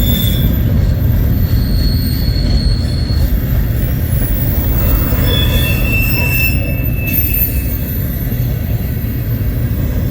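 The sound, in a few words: northbound train passing through Fremont, Nebraska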